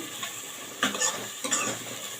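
Chopped onions sautéing in a pan for dal palak, a soft sizzle broken by two or three scraping strokes of a spatula against the pan, close and without talk.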